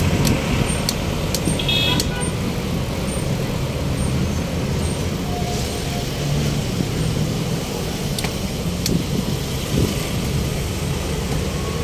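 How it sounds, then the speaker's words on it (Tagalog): Busy street traffic on Roosevelt Avenue in Quezon City, a steady dense roar of cars and buses with scattered horn toots, continuous and fairly loud throughout, with some voices mixed into the din. "Grabe traffic."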